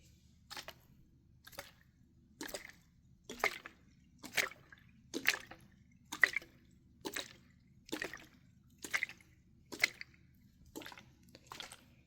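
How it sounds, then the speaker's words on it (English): Water stirred by a finger inside a bottle, heard as about a dozen evenly spaced, soft sloshing drips close up, one roughly every second, over a low steady hum. "Put, like, my finger through the water."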